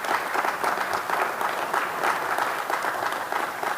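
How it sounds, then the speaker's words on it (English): Audience applause fills a school district's State of the Schools address, steady dense clapping from a crowd that holds at an even level throughout without voices over it. "So let's give her a round of applause for that."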